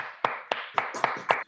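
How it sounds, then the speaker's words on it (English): A few participants in an online meeting clap for Anita, heard as about six distinct claps in a slow, even rhythm, close and somewhat compressed, with no talking. "let us give Anita a huge round of applause"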